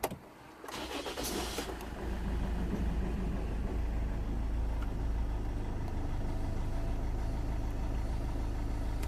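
Land Rover Freelander TD4 diesel engine cranking and catching, then settling into a steady low rumbling idle that continues evenly and fairly close.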